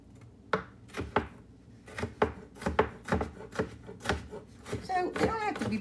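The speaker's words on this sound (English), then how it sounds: "So I'm just gonna use my knife, and that's fine. Because honestly, I enjoy chopping up stuff." A kitchen knife chops vegetables on a board in steady, irregular knocks, close and crisp, with a voice breaking in briefly near the end.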